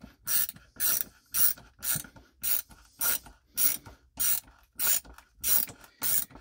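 WorkPro ratcheting screwdriver turning in regular back-and-forth strokes, each giving a burst of rapid ratchet clicks, about a dozen bursts, close and clear with no talk.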